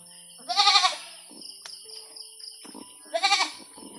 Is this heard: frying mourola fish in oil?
no